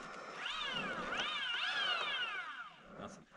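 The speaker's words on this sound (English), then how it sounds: "Meow." A cat gives two or three drawn-out meows in quick succession, close and fairly loud, with a rising and falling pitch, followed by a brief softer sound at the end.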